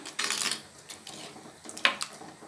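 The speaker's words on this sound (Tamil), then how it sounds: "சுரைக்காய் கூட்டை சேர்த்துட்டு இதை அப்படியே கலந்து கொடுத்துடலாம்" Bottle gourd kootu being stirred in a cooking pot, with a few soft scraping and clinking utensil touches against the pot, close and fairly quiet, no voices.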